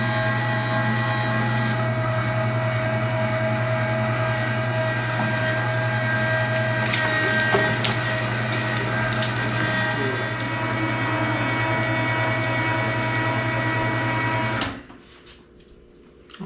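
A meat grinder runs steadily, grinding venison for summer sausage, a constant loud motor hum with mechanical whine that continues for about fifteen seconds before abruptly cutting off into quiet.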